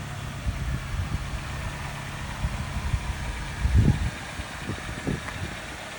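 A 2004 Honda CR-V engine idles steadily at close range, a low, even mechanical hum with a few soft knocks and small bumps in level, and no voices.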